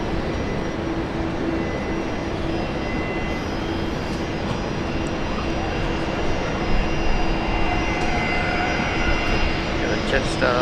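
A heavy jet airliner rolls out on the runway at Brisbane Airport, its broad engine roar steady and moderately near, with a whining tone rising toward the end and talk in the background.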